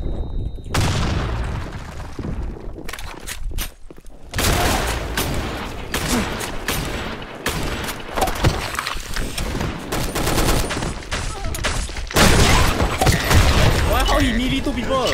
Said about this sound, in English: Oh, what the flashbang?